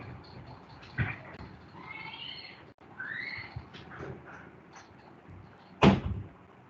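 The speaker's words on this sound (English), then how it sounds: "Let me close the door." A door in a classroom closing, with faint shuffling and bumps first, then a sharp, loud latch thud near the end of a quiet room.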